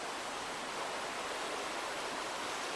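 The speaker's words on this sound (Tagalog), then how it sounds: "Medyo malakas lang yung agos ngayon." A strong river current rushes past a riverside spot in Famy, Laguna, heard as a dense, continuous roar of flowing water, close and steady throughout with no voices.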